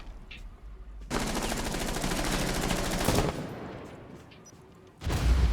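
Rainbow Six Siege gunfire rattles out in a long, loud automatic burst lasting about two seconds. Another sharp burst follows after a brief quieter gap.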